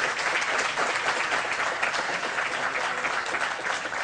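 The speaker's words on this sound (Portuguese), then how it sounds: "Salva de palmas." Steady, dense applause from a large audience at a Telebrasil telecom industry panel, filling the whole stretch at an even volume with no voices over it.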